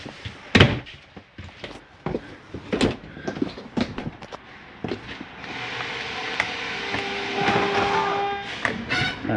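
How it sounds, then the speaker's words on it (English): A Jayco Eagle 28.5RSTS fifth-wheel RV's wardrobe slide-out retracting: a few loud knocks and clunks, then a steady mechanical motor drone with faint whining tones as the room pulls in, heard close and alone. "I like to open that door and watch this wardrobe slide come in"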